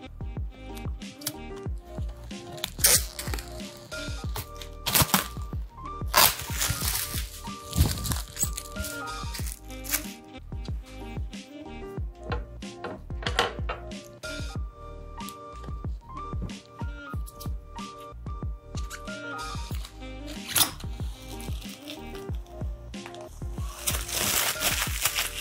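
Protective plastic film being peeled and crinkled off the panels of a black-and-white PC gaming build, a long run of irregular crackling, tearing and rustling bursts, close and fairly loud, with no talking.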